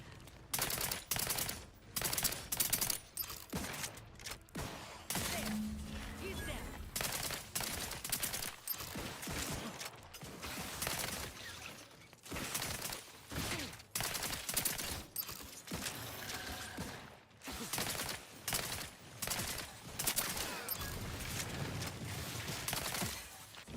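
In a video game, a companion fires a rifle in rapid volleys, sharp bursts of gunfire crackling loudly and almost continuously, with brief pauses between strings of shots.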